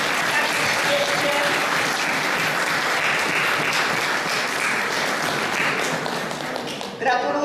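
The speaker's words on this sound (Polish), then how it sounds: "jeszcze raz brawa" Audience at an ecology knowledge contest gala applauds, a dense, lively round of clapping from a hall full of people, steady and loud before tapering at the very end.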